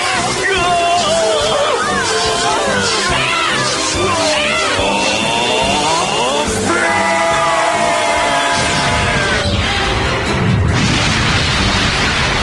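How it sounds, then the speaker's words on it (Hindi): An explosion booms in a Pokemon cartoon episode, a broad rumbling blast that rises midway and swells toward the end, mixed with cartoon effects and characters' voices over a dense soundtrack. "धमाका तो देखने को मिला"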